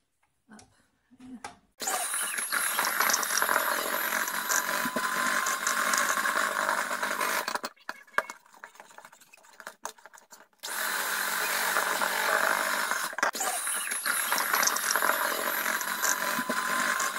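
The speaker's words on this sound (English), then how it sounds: "Now you have to do this with the hand mixer." Electric hand mixer whipping coffee with powdered sugar, a steady loud whirring drone that runs for several seconds, stops briefly, then starts again and continues to the end.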